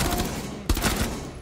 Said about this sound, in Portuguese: Tava sentando o tiro, Vitor.